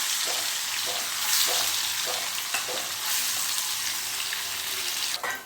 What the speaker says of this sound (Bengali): পনিরগুলোকে আমি একটু ভেজে নেব হালকা করে